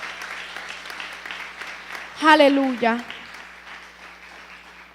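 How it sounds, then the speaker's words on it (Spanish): Church congregation applauding during a service, a steady broadband clatter of clapping under and around a preacher's spoken exclamation. "Si le vas a dar un aplauso al Señor, dáselo fuerte."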